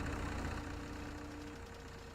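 A tractor engine idles in the farming game Farming Simulator 17, a low, rumbling drone with a steady hum that fades slightly toward the end, heard alone and fairly quiet.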